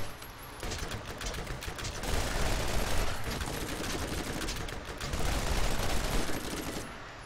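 Rapid gunfire from a gun in the shooter game Borderlands, a dense, sustained burst of shots lasting several seconds, loud and continuous with little pause.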